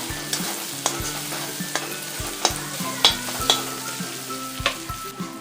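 A spoon mixes garam masala and a little turmeric into Khandeshi brinjal bharit, sounding as rhythmic scraping and tapping strokes against the pan over a constant sizzle, close and alone.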